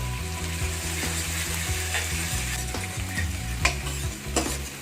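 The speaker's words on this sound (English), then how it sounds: "Let's add the chopped spring onions. Stir them well as well." Chopped spring onions with ginger and garlic sizzle in a hot pan while being stirred, giving a continuous close frying hiss with occasional scraping knocks of the utensil and no talking.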